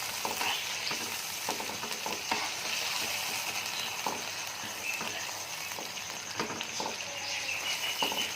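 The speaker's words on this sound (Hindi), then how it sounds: "अब इसको हम अच्छी तरह से भून लेंगे।" Chicken green karahi masala fries in a pan with a loud, steady sizzle, broken by repeated scraping and clacking strokes of stirring, close up and without talk.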